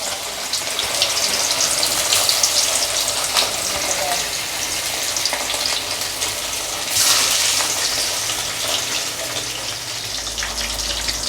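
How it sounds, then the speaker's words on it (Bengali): Sardines coated in salt and turmeric fry in mustard oil, giving a loud, continuous sizzling hiss with a brief surge partway through, steady to the end. "দিয়ে আমি ভালো করে লাল করে ভেজে নেব।"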